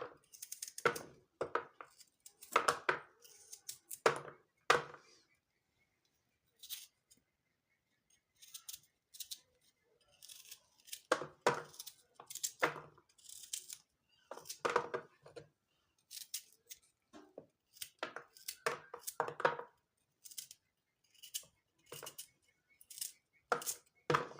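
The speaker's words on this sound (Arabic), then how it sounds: "هنكمل الكمية بتاعت تقطيع البلح" Rapid, crisp knife cutting and chopping taps through yellow dates on a board in irregular bursts, with brief quiet pauses between runs.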